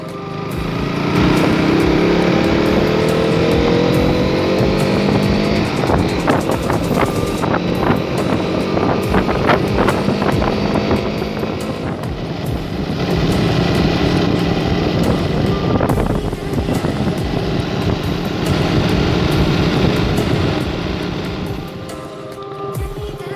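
A KTM Duke 200 motorcycle being ridden: a continuous engine drone whose pitch rises and falls through gear changes, with brief bursts of wind and road noise, steady and fairly close.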